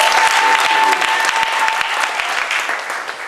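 A church congregation applauds together, dense clapping sustained and loud throughout, with a few voices rising faintly in the crowd.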